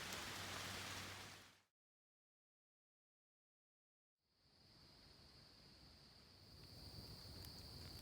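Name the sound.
rain falling on a tent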